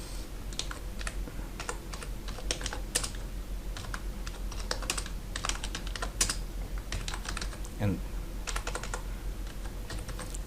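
Steady typing on a computer keyboard while entering a first name into a web form, with quick irregular key clicks running throughout and no talking.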